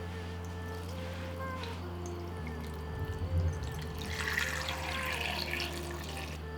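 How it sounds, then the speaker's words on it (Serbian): Cold water runs from a tap into a pot holding eggs being prepared for marbled Easter dyeing with onion skins, a soft steady splash that grows brighter and fuller partway through, fairly quiet and close. "Jaja ću preliti sa hladnom vodom"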